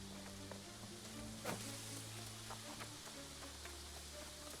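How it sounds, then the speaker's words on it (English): Faint, steady patter of rain in the video game New World, with soft crackling drops over a low background hum. "It's raining."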